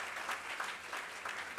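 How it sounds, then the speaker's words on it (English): Audience applause at a large student conference: steady, dense clapping from a crowd, sustained and even, heard at a moderate distance with no voices over it. "please give a round of applause for them."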